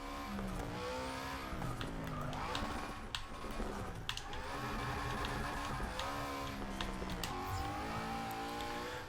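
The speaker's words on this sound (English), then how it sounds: "Crazy amounts of wheel spin in first gear." A Formula Drift race car in Forza Motorsport 6 at Road Atlanta revs hard with squealing tires as the wheels spin in first gear, engine pitch sweeping up and down repeatedly, fairly faint.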